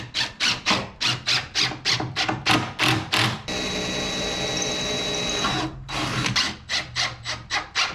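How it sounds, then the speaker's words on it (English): A power drill re-drills screw holes in a wooden board while building a cheap duck boat, with rapid bursts of short whirring pulses, one steady sustained drilling run in the middle, then more quick pulses, close and fairly loud. "Re-drill my holes so I don't crack the wood."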